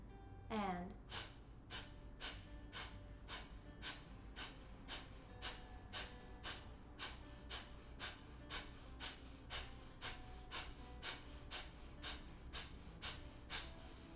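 Rapid, forceful Kapalabhati breaths done as breathing practice for singers, a steady train of about twenty sharp, evenly spaced exhalations after a short inhale, close and clear.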